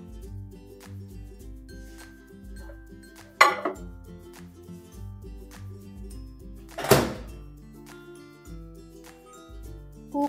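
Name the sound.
dish of prawn and mustard mixture placed into microwave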